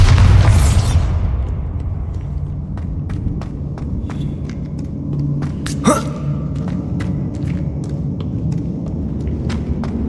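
A Bombarda explosion spell in Hogwarts Legacy bursts with a loud initial blast that decays into a rumbling tail, followed by a sharp secondary crack midway and scattered small clicks.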